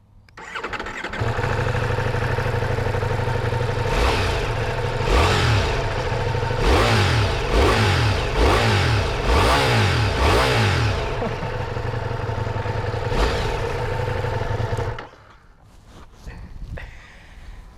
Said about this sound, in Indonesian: mari kita dengerin dulu suara mesinnya nih